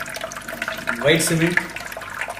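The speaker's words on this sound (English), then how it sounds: "the system is made to have a waterfall continuously with a small motor" Water runs steadily from a small motor-driven indoor fountain waterfall, a continuous trickle and splash heard beneath someone speaking nearby.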